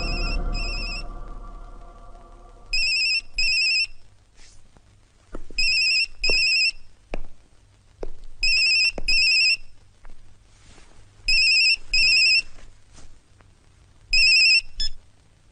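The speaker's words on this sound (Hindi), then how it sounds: "मोबाइल पे फोन लगाओ" A mobile phone ringtone rings in repeated bursts of a bright electronic melody, sounding about five times with short pauses between them, loud and close against a quiet room with no talking.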